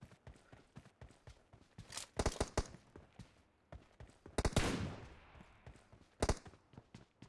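Gunfire in the mobile shooter BGMI during a 1v1 room match with an M416 rifle, sounding as sharp, separate bursts of shots spread through the stretch, with a louder, denser volley near the middle and another burst toward the end.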